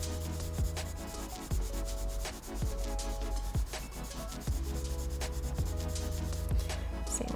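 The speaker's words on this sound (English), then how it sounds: "if you press down really light with your crayon or your colored pencil, you'll get a really light shade." Crayon lightly shading a drawing of a hiking boot on paper, a soft continuous rubbing with regular back-and-forth strokes, close and alone, with no talk.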